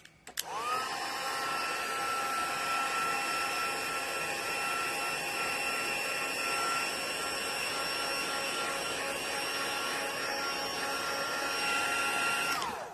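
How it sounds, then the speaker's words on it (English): Heat tool blowing steadily on a watercolour card, a loud continuous whine with a high-pitched tonal hum that switches on abruptly and runs evenly for about twelve seconds before cutting off, with no talking. "bring the heat tool in again."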